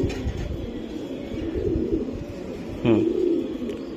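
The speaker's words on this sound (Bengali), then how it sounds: "এই লফটের কবুতর" Racing pigeons coo in low, throaty murmurs nearby in a loft, with a louder coo near the end over a busy rustling background.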